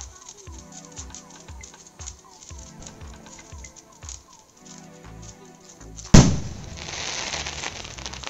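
A Diwali firecracker bursts with a single loud, sharp bang followed by crackling and a fading hiss, after a stretch of rhythmic music playing nearby.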